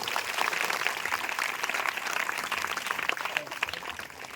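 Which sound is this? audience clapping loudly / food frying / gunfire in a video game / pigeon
audience clapping loudly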